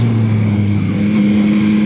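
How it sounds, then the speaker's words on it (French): Yamaha MT-09 (2021) 887 cc three-cylinder motorcycle engine holding a steady, loud, close droning hum with a strong low-pitched tone, no speech over it. "ce 3 cylindres fonctionne vraiment étonnamment fort"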